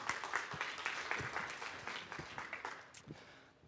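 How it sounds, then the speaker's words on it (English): A summit audience applauds, scattered claps building into a fairly dense patter that gradually thins and fades toward the end, with no voices over it. "Give yourselves a round of applause."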